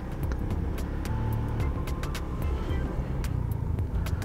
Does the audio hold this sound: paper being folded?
no